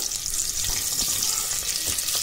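Sliced onions frying in hot oil for a mutton curry, a steady loud hiss and sizzle that fills the whole moment, close up with no talking.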